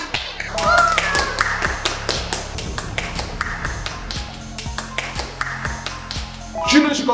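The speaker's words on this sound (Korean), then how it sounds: "다들 박수!" A small group in a vocal training class claps, giving a run of sharp, uneven claps that fill the room, with voices chattering and calling out over the applause.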